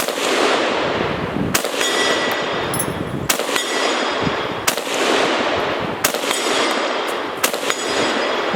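Five loud shots from a Russian SKS rifle, spaced roughly a second and a half apart, each a sharp crack over a steady rushing outdoor background, with no talking.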